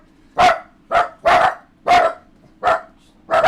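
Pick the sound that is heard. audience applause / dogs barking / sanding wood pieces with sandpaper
dogs barking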